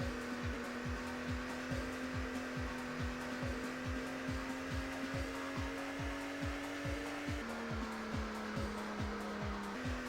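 A racing car engine in the N64 game Automobili Lamborghini drones steadily throughout with a fast, rhythmic pulsing, its pitch shifting slightly as it keeps running close and loud.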